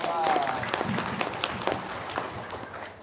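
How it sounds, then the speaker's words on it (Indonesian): Hands clap in brief applause during a casual gift-giving gathering, with irregular claps heard alongside close conversation. "Tepuk tangan dong."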